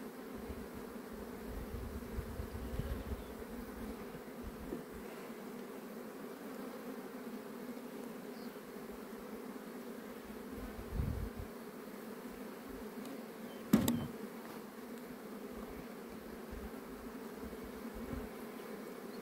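A steady, low hum of many honeybees buzzing close by at a hive, continuous and even, with a brief knock partway through.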